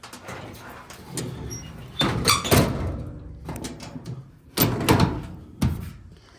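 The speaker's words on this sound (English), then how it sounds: "Open up the other side of the engine bay" The engine bay of a 1946 Chevy with a straight six is opened, giving a series of metallic squeaks, clunks and thumps in separate bursts, close and fairly quiet.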